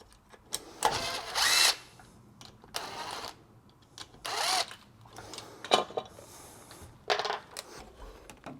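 A power drill driving screws into a shower valve plaster guard, several short whirring bursts separated by pauses, close and fairly loud, with small clicks and handling noises between.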